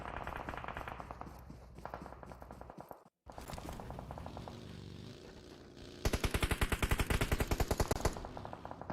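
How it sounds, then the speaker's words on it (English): Gunfire in the mobile battle royale game PUBG Mobile during a pro league finals match: dense automatic bursts throughout, a brief gap, then a louder, sharper run of rapid shots near the end. "Oh, up comes the shots there from Linky."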